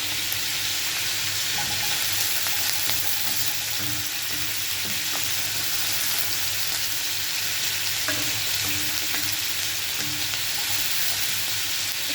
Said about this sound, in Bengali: পেঁয়াজকে একটু ভাজা ভাজা হয়ে আসছে আমি অন্য মশলাগুলো দিয়ে দেবো